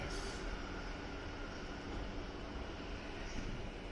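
A Tokyu Den-en-toshi Line train arriving at Futako-Tamagawa station, a steady, faint broadband rumble of rolling wheels and motors throughout, with a brief high squeal at the start; no talking.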